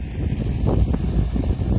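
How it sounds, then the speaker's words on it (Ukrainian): Steady, strong wind buffeting the microphone with a low rumbling roar throughout, outdoors in a rapeseed field. "воно вітер сильний у нас"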